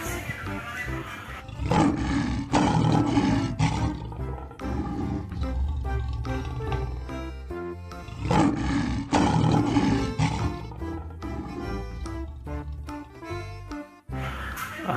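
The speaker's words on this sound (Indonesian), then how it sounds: "Ada harimau juga" Loud tiger roars, two big drawn-out bursts several seconds apart, over a busy electronic background in the video game Jurassic World Evolution 2.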